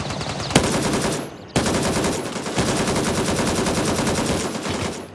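AK rifle mag dump in Gray Zone Warfare: loud rapid automatic bursts, one short burst, a brief pause, then a long sustained stream of shots, close and dense with no talking.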